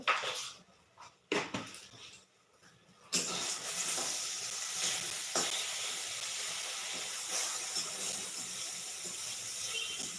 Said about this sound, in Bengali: এখন আমি বসিয়ে দিয়েছি বেগুন ভাজি